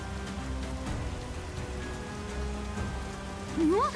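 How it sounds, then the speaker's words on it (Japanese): Steady rainfall patters on surfaces in the Persona 5 Scramble video game, a continuous hiss with soft game music tones and a brief rising effect near the end. "雨降ってる。 急に降り出してきたね。"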